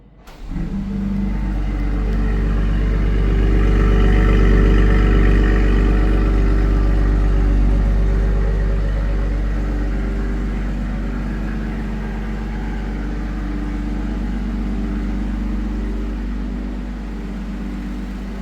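A 2026 BMW X3 M50 starting remotely and then idling, a deep low rumble that swells at startup and settles into a steady, strong hum, with no one speaking.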